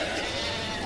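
A sheep gives a single brief, loud bleat close by in a small-town farm setting.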